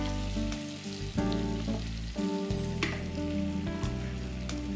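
Fenugreek seeds and cumin fry in a pan with a steady crackling sizzle, close and fairly loud, with occasional sharper pops and spatters and a few low thumps of handling at the stove.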